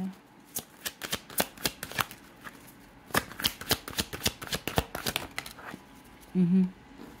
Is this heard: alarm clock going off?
no